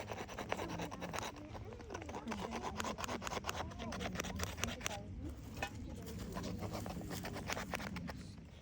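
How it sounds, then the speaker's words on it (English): A knife scrapes shavings off a piece of resinous fatwood outdoors, a close, repeated rasping stroke in a steady rhythm, with a person talking at times. "So now that I got the shavings from the fat wood"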